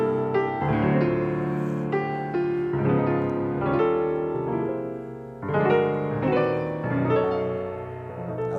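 Fair Harvard played on piano with lush chromatic harmony, full rolling chords moving through shifting phrases, steady and fairly loud with no talking.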